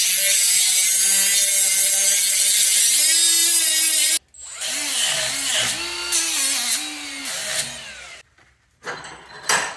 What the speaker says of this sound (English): See if we can get her up in this vise and lock down and grind it.